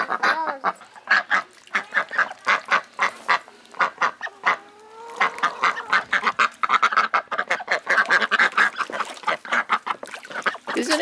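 Ducks quack and honk in a rapid, irregular chatter, several birds calling close by and overlapping, with no talking.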